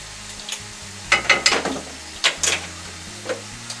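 Already-cooked meat is stirred in a pan, with a few loud scraping strokes of the utensil against the pan over a faint background sizzle, spaced irregularly across a few seconds.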